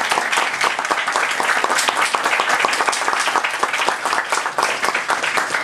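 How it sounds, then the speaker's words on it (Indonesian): An audience at an orphans' charity gathering applauds to welcome a woman guest, a dense, steady wash of many hands clapping close by that fills the whole stretch at even loudness. "Kita beri tepuk tangan kepada Ibu Ina"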